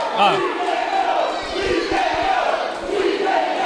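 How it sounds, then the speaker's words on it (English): A wrestling event crowd roars and yells steadily in a large venue, a loud continuous wash of cheering voices with shouts rising above it throughout. "this crowd, I think, solidly behind Bob Evans for the most part"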